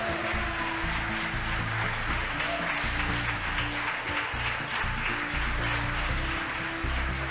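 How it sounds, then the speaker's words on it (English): Crowd of spectators cheering and applauding after SpaceX Falcon Heavy spacecraft separation, a steady continuous wash of clapping and cheers with music-like tones underneath throughout. "As you can tell behind me, the folks that watched the mission cheering"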